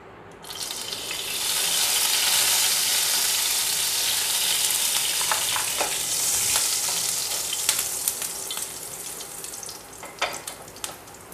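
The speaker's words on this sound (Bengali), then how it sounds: "এবারে এখানে আমি সর্ষে, গোটা সর্ষে আমি দিয়ে দিচ্ছি।" Whole mustard seeds hit hot oil with a loud, steady sizzle that rises quickly and stays dense, then thins toward the end with scattered pops and crackles.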